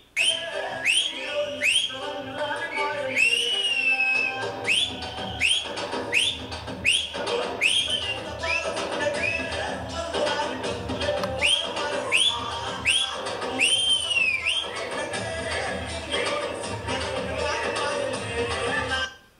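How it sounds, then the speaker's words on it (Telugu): Many sharp, rising whistles ring out repeatedly from a crowd, piercing and overlapping over a steady din of cheering in a large room. "హాలంతా ఈలలతో దద్దరిల్లింది."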